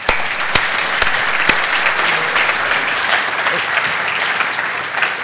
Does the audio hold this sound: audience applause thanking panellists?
yes